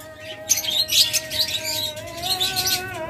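Caged pet birds from Holland-bloodline breeding pairs chirp and twitter busily in overlapping bursts. The sound is close and lively over a steady hum, with no voices.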